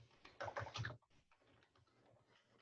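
Typing on a computer keyboard while entering names into a spreadsheet, a quick burst of close key clicks followed by sparser, softer taps.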